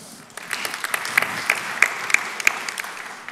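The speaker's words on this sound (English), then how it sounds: "So give a round of applause for them." Audience applause at a startup conference design talk, scattered claps building into a moderate round with a few sharp individual claps standing out, fairly close and lasting a few seconds.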